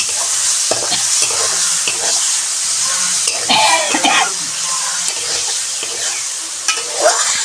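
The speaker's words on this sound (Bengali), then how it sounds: "হলুদ জিরা গুঁড়া জিরা বাটা রসুন আর মরিচ মশলাটাকে একসাথে কষিয়ে নেব" Turmeric, cumin powder, ground cumin, garlic and chilli masala frying together in a pan for a lotus-root stem curry, a loud continuous sizzle with repeated spatula scrapes and stirring, plus a brief cough.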